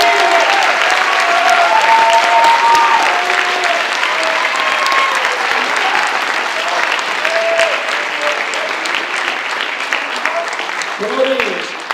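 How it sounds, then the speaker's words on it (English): A large audience at a high school NJROTC awards night claps loudly and steadily, a dense wash of hands filling the hall for the whole stretch before tapering slightly at the end. "let's have a round of applause for the second group"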